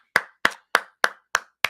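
Six evenly spaced sharp claps, loud and close, in a steady rhythm lasting under two seconds, standing alone without talk.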